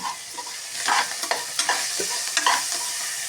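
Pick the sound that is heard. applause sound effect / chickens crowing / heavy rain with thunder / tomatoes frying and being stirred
tomatoes frying and being stirred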